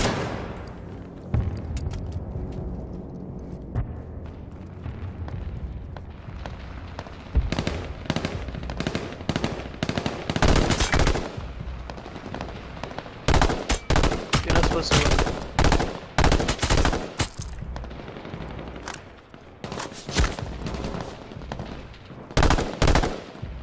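Rapid bursts of automatic gunfire and single shots from players in the battle-royale game H1Z1 on PS4, loud and frequent, crackling in clusters throughout with brief lulls between volleys.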